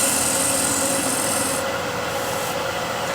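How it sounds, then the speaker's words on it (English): A negative rake scraper drawn lightly over wood, lifting thin ribbons of shavings and some dust, gives a steady, close, continuous rasping scrape that runs unbroken throughout. "if you use scraper lightly, you can still see I'm getting nice ribbons of shavings"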